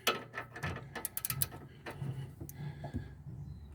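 A ratchet clicks in quick bursts while tightening the stabilizer link on a 2014 Honda Vezel RU3 Hybrid, close, rapid pawl ticks with short pauses between strokes and no talk.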